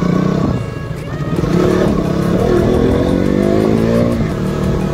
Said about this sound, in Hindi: सुमित भाई के साथ मेरी पहली राइड है कि हम दोनों साथ में राइड कर रहे हैं।